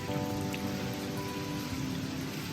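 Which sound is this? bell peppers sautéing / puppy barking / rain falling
rain falling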